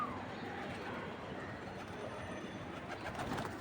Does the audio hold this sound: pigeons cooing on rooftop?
yes